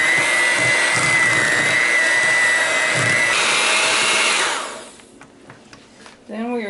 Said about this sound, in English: we are going to mix our cream cheese until it's smooth